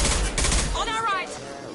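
Rapid gunfire bursts in the video game Mass Effect Legendary Edition on PS5, a loud close volley followed by a voice speaking.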